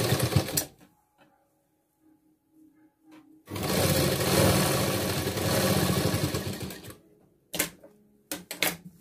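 A sewing machine stitches the shoulder seams of a blouse with a half-inch margin, with brief starts, one sustained three-second run of rapid stitching, then a few short bursts, all close up.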